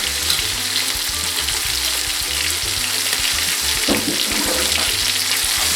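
Onion frying in rendered bacon fat in a pan, a loud, continuous close sizzle with crackling throughout and no talking.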